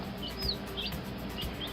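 Newly brought-home baby chicks chirping in a brooder, several soft high peeps spaced through the moment over a steady background hum, fairly quiet and not loud.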